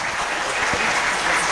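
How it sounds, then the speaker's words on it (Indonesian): A school audience at a student council candidate debate gives dense, steady applause for the second candidate pair, a continuous close wash of clapping with no speech over it. "berikan tepuk tangan untuk paslon nomor urut 2."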